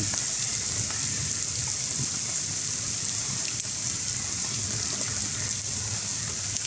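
Heavy rain pouring down at an excavator work site, a loud continuous hiss and patter on surfaces that holds steady throughout, with no talk over it.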